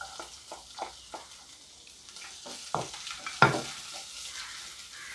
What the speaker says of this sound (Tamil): இது பொரிஞ்சோடனே நம்ம இதோட வெங்காயம் சேர்த்துக்கலாம்.